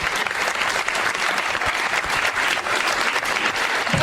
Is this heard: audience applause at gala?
yes